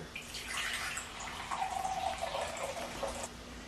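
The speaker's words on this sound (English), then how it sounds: "you're going to pour 1 cup of water into a nice Pyrex container." Water pours into a Pyrex glass container, a splashy stream whose pitch shifts as it fills, close by and fairly quiet.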